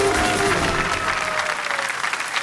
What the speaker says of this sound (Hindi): तालियां बजती रहे मधु के लिए